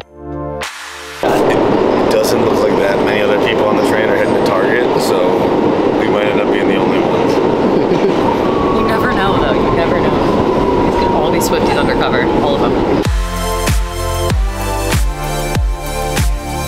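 Steady rumbling and rattling of a moving train carriage, loud and continuous, with a squeal rising partway through and voices murmuring underneath.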